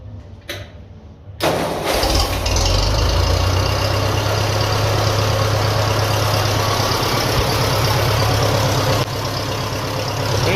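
1957 Ferguson FE35 TVO tractor engine cranking, catching after a moment of quiet, then running loudly at a steady idle close by, with a rough low rumble and clattering mechanical knock.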